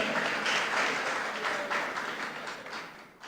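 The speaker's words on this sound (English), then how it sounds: "A round of applause for Paul Ademotre" A studio audience applauds for a guest on a live television talk programme, a dense, steady round of clapping that fills the space and slowly tapers toward the end.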